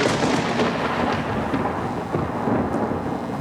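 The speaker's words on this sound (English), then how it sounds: "There's that storm." A thunderstorm with a continuous low rumble of thunder and steady rain, loud and unbroken throughout with no voices.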